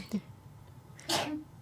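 A single sneeze bursts out close and loud after a short quiet stretch, preceded by a small breathy sound.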